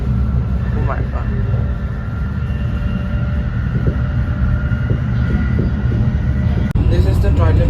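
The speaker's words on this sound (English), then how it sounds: "Another Shinkansen. What a speed." A Shinkansen bullet train rushing past at high speed on the Tokyo to Hiroshima line, heard as a steady loud rumble and rushing roar, with a brief sharp burst near the end as it goes by.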